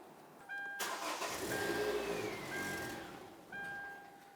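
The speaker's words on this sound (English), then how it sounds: "We're now going to go ahead and start up the vehicle" A 2010-2013 Kia Soul's engine cranks and catches after fuel tank replacement, settling into a steady idle, then a second start attempt near the end, with faint chime tones in the background.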